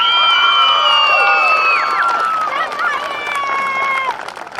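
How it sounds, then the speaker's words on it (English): A crowd cheers and whoops at a baseball and softball parade as players trot past, with many overlapping shrill children's shouts rising and falling over a busy background. "a big cheering section over there"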